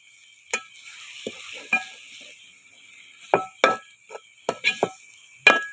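Grated coconut with chili powder and turmeric is stirred in a pan, heard as a string of sharp spoon-on-pan scrapes and taps in uneven bursts over a faint sizzle, close up and without talk.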